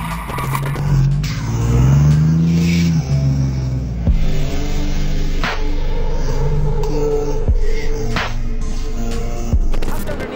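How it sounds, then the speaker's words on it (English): A Porsche GT1 race car on a track, its engine loud and close and rising in pitch through the gears, with harsh tire squeal and sharp knocks as it heads into a turn. "The Porsche GT1 looked like it was accelerating to prepare for a turn"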